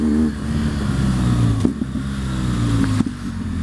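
BMW motorbike with a large fuel tank, its engine running and revving steadily and close by, with harmonic tones shifting in pitch and a couple of sharp clicks or knocks breaking through.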